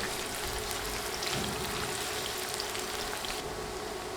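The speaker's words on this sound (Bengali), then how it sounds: "পেঁয়াজ দিয়ে নেড়ে নেড়ে ভেজে নিচ্ছি চুলা মিডিয়াম আঁচে আছে" Onions frying in hot oil over medium heat with bay leaves make a dense, even hiss like steady rain, close and continuous throughout.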